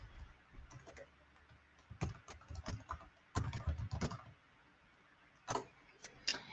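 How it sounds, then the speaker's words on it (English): Computer keyboard typing in a quiet room: irregular bursts of key clicks, some clustered in quick runs and others spaced apart, close and fairly soft with short pauses between. "If I can type today."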